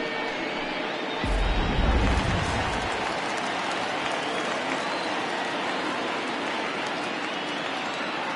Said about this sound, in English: the home crowd is absolutely eating this up